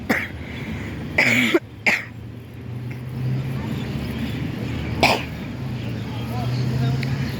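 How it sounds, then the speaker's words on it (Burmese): A person with a lingering cough coughs in a couple of rough bursts early on and once more later, close to the mic over a steady low engine-like hum. "ချောင်းဆိုးတာခုချိန်နေမပြောက်သေးဘူး"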